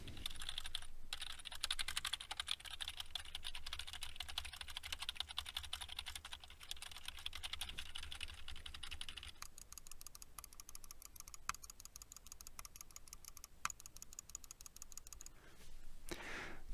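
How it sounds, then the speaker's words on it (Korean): Computer keyboard typing and mouse button clicks picked up through an EPOS Sennheiser GSP 300 series headset microphone, a long run of faint, rapid key taps and clicks with no talking. "키보드와 마우스 버튼을 눌러보도록 하겠습니다."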